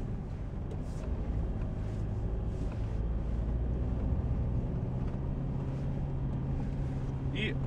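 A Mitsubishi Pajero Sport drives off-road with a low, steady engine rumble and road noise heard from inside the cabin, along with occasional knocks and rattles, while people talk over it.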